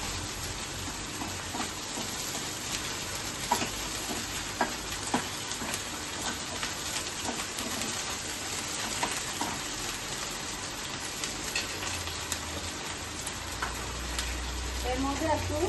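Garlic paste, chopped tomato and green chillies frying in a pan for a stuffed eggplant dish, giving a continuous, dense sizzle with scattered stirring scrapes and clicks.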